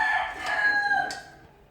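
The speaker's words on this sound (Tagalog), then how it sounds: "May ngayong mga manok ni Toto" A rooster crows once, fairly close and clear, the call tapering off toward the end.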